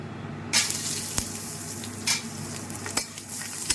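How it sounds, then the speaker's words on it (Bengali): Almonds fry in ghee for a makhana snack, making a steady close sizzle that starts abruptly, with a few sharp scraping stirs of a spoon in the pan. "সেটাকেও একটু ভেজে নেবো ঘিতে।"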